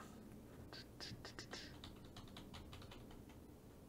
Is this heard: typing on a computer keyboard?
yes